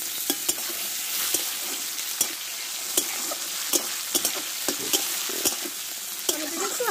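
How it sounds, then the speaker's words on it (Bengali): Chopped tomatoes frying in a pan for a catla fish head and ash gourd curry, a steady sizzle broken by sharp stirring clicks and scrapes at irregular intervals, close and continuous with no talking. "টমেটোটা একটু হালকা ভেজে নিয়ে আমি এবার কুমড়োগুলোকে দিয়ে দেবো"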